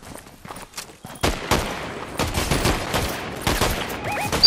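Squads trade gunfire in the video game Fortnite: dense bursts of rapid shots crack in quick succession, near and loud, with overlapping volleys and a few metallic pings toward the end.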